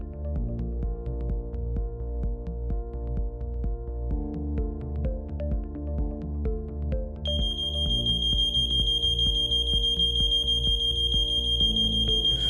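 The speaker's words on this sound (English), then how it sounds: "sound an alarm that will tell us that the stove has been unattended too long" A stove safety monitor sounds a steady high-pitched electronic alarm, beeping continuously in the final seconds over a low humming, rhythmic mechanical background.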